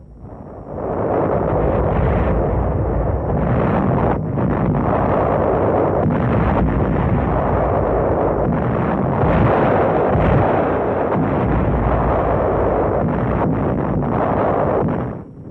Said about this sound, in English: Our landing craft encounter some enemy fire as they move toward the shore.